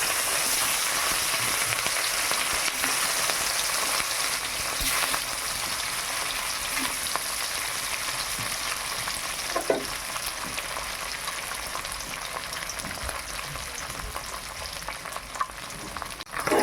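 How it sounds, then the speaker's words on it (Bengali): Katla fish pieces fry in a pan in a village kitchen, giving a continuous dense sizzle with a few faint stirring clicks, close and steady throughout, and no voices. "এবার মাছগুলো ভেজে নেব।"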